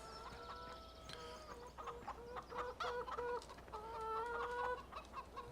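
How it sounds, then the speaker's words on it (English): Chickens cluck steadily at a coop in the Farming Simulator 17 video game, with several overlapping birds, occasional longer calls and a faint rooster-like note over a constant low farm hum, no talking. "Let's go ahead and actually see if we can't clear out our chicken coop again."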